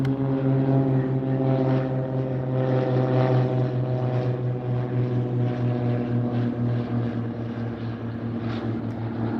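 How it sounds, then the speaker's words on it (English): A propeller airplane drones overhead at the Oshkosh EAA AirVenture airshow, a steady, loud, even engine hum holding without a break for the whole stretch. "We've got a couple of aircraft practicing here right now."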